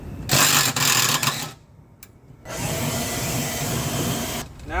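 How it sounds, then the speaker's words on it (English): A power tool with a 1/2-inch socket spins spindle nuts off a John Deere mower deck in two loud, close bursts of high whirring separated by a short quiet gap, with no talking. "Look, so I got my 1/2-inch socket to get those other 2 nuts off."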